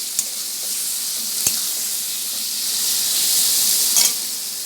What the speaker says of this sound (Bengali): এবার আলুটার সঙ্গে সমস্ত মশলাপাতি আমি ভালো করে কষিয়ে নিচ্ছি।